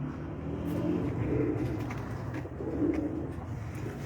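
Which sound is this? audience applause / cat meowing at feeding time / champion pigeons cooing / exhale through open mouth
champion pigeons cooing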